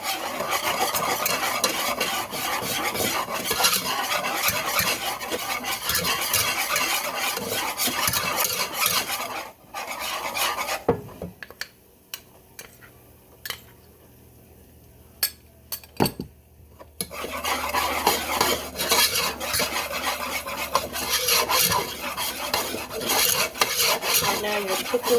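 Butter, flour and seasoning are whisked together in a pan, with steady scraping and rasping strokes from a metal whisk, then a pause of a few seconds before the continuous whisking resumes close by.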